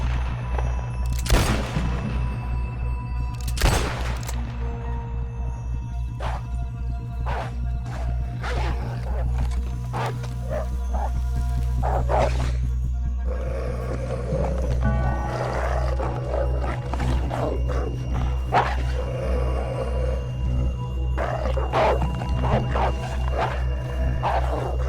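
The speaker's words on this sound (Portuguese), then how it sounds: "acho que eu ouvi alguma coisa. É a alcateia." A wolf pack in the Western video game Red Dead Redemption 2 calls out over a dense game soundscape of low rumbling music and sharp bursts, with the cries rising and fading amid the constant noise.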